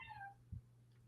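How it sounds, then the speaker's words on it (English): A house cat gives a single short meow, fairly close and fading after a moment, with a low steady hum in the background. "Apostle Kitty Cat. Hi. Meow"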